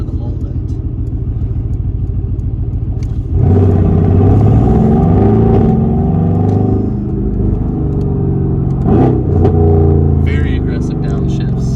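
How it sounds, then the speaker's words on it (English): Mercedes-AMG engine with a deep, loud exhaust note that jumps in level partway through and rumbles on through aggressive downshifts, with a voice talking over it. "Very aggressive downshifts. This thing sounds very good. Typical AMG exhaust note."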